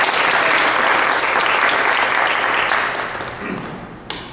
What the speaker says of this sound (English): Give Kane a big round of applause.